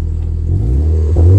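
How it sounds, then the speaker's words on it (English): A Toyota MR2 with a 2-litre turbo engine revs close by, a deep, loud rumble that climbs and swells over a second or so, with no talk. "No lies, it's a Toyota MR2."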